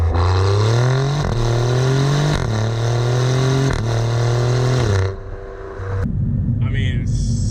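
An Alfa Romeo Giulia Quadrifoglio's engine roars loudly in race mode, climbing in pitch through repeated gear shifts as it accelerates hard, then eases off with some talking at the end.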